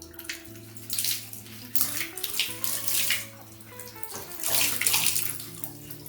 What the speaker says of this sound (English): And I'm just going to wet my sponge.